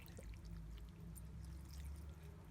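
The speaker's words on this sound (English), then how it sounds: "as I'm pouring this in, it'll start topping up" Water pours steadily into a planted aquarium substrate laid over kitchen towel, a faint, continuous trickling with small splashes over a low background hum.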